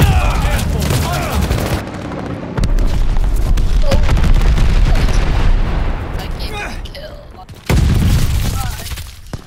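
Explosions and heavy gunfire from a friendly bombing run in Call of Duty: Vanguard, loud and continuous with dense booms and rattling fire, a brief lull, then a sharp renewed blast near the end, with voices talking over it.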